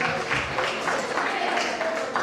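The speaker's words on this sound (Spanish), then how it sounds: "Un aplauso para la señora María Andagua." An audience at a San Martín de Porres celebration in Sanremo, Italy applauds for María Andagua, steady moderate crowd clapping with some voices mixed in underneath.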